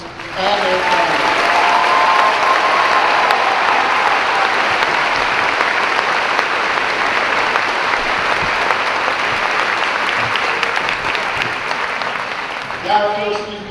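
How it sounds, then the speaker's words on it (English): A large crowd applauds drill instructors and their families at a Marine Corps graduation ceremony, loud sustained clapping from many hands for over ten seconds, with a brief voice at the start and end. "Please join me in a round of applause for our drill instructors and their families."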